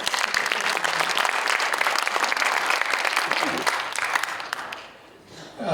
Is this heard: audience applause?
yes